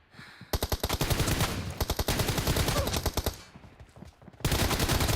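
Video game gunfire: rapid automatic bursts of loud, close machine-gun fire with brief pauses between volleys, alone without talking.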